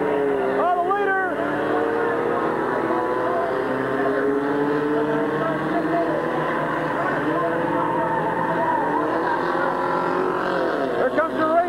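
Race cars roar around Midvale Speedway at a July 1999 event, their engines droning steadily and loudly throughout, with voices talking over the din.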